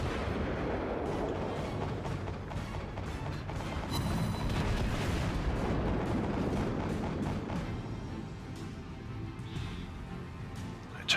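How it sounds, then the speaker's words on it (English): Naval main-battery guns on a warship in World of Warships fire in heavy rumbling volleys, the deep booms continuous and loud across the stretch, with a few sharper blasts near the middle. "My guns fire faster, and I return fire."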